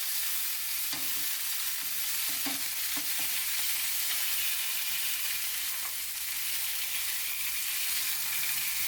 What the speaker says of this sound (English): I'm going to give these a flip.